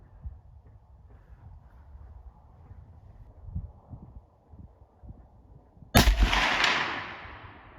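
A single sharp .30-30 gunshot from a Handi-Rifle cracks out loud and close near the end, its report decaying over a second or two after several seconds of low outdoor rumble.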